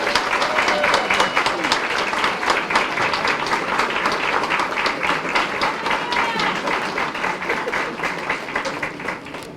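Gala audience applauding, a sustained, fairly close patter of many hands clapping for nearly ten seconds, with faint voices mixed in.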